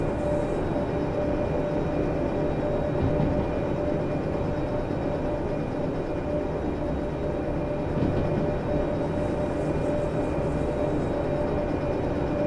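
Steady low rumble and hum of a diesel locomotive running in dynamic braking with the train brake applied in the Derail Valley simulator, with a constant drone and faint hiss continuing unbroken throughout.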